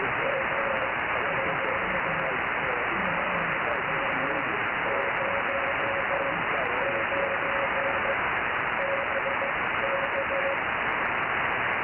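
Faint CW Morse code tones on a 2-meter amateur radio net, a thin run of dit-dah beeps buried under loud, steady radio static.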